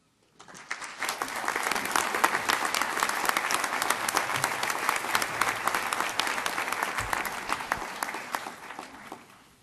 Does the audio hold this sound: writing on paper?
no